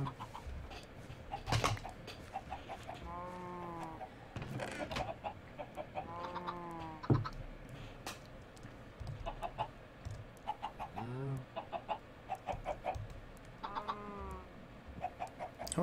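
Chickens in the Minecraft Forgecraft modpack cluck repeatedly over about sixteen seconds, several birds overlapping in uneven bursts of clucks and drawn-out squawks, close and moderately loud.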